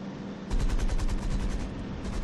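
Aircraft machine gun fire in the combat flight game IL-2 1946, a loud rapid rattling burst of rounds over the steady drone of the plane's engine, continuing for most of the clip.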